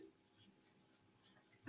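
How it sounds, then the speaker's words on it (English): A single sharp hiccup bursts out right at the end, loud and close after a stretch of quiet room noise. "Damn hiccups."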